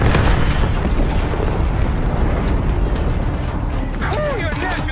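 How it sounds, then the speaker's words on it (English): An RPG rocket slams into a Scud launcher in the Call of Duty: Black Ops 6 game, a dense, continuous roar of explosions and rumbling blasts that fills the whole stretch. Whistling debris and faint voices come through near the end. "Take it out before it launches! Fire an RPG at it!"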